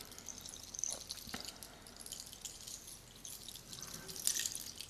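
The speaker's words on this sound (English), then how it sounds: "water drops, cleansing, clearing, like gentle rains." Faint water drops dripping in a quiet space, a few sparse soft plinks scattered over several seconds against a low hush.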